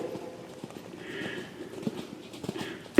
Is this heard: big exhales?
no